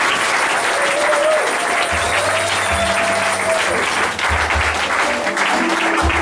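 An audience at a church youth seminar in Moanda claps loudly and continuously, a dense close round of applause that keeps going, with a few faint voices and a brief tone sounding underneath.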